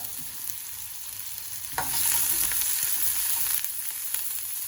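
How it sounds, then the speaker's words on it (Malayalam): Onion and chopped garlic sautéing in oil with mustard seeds for a raw plantain lentil curry, a constant close hiss that swells louder midway as the pan is stirred, no voices. "ഇതിലോട്ട് ഒരു ചെറിയ സവോള ഇടുക. 2 അല്ലി വെളുത്തുള്ളി അരിഞ്ഞതും കൂടി ഇട്ട് നന്നായി ഒന്ന് വഴറ്റുക."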